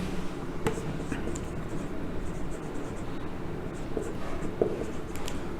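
Chalk or marker scratches across a classroom board during a biology lesson on animal reproduction, soft and intermittent under room noise.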